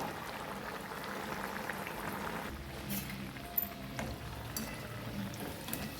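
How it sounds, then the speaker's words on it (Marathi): Potato and semolina vadas sizzle in hot oil over a high flame, a steady dense crackle and bubbling hiss with occasional brighter pops, close and even throughout. "हे पण फास्ट गॅसवर छान तळून घ्यायचे नंतर स्लो गॅस करायचे"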